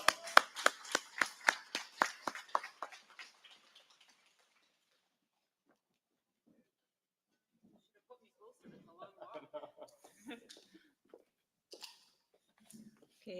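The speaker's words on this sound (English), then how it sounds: "Let's give her a big round of applause." Applause for a board president at a school tribute event starts as a brisk burst of clapping and fades out within a few seconds, followed by quiet and then scattered talk.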